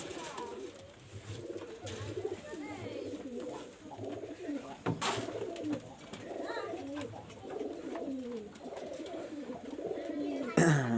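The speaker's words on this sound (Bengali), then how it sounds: "আর এই কবুতর পোড়াবাজি কবুতর, একবারে গ্যারান্টি সহকারে দেওয়া যাবে।" Soft, repeated cooing of an active Master Pair pigeon with a red throat, mixed with a background murmur of other birds and voices, with a few sharp clatters near the end.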